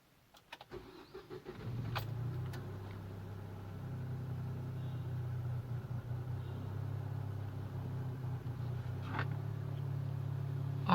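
A car engine idling just after being started: a brief crank and catch, then a steady low hum and rumble with occasional faint clicks, recorded inside or near the vehicle, quiet and even.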